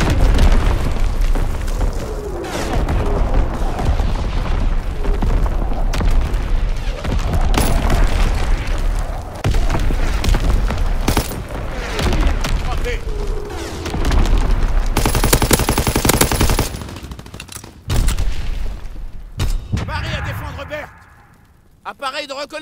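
Artillery strike explosions and gunfire in Call of Duty WWII, a dense and continuous barrage of loud booms and rattling shots that runs almost without pause, with a voice heard faintly beneath the battle.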